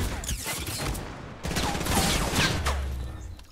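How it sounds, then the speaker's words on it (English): Gunfire crackles through a Fortnite Battle Royale match, with loud bursts of shots near the start, then a denser, sustained fusillade through the second half. "I was getting shot at my back."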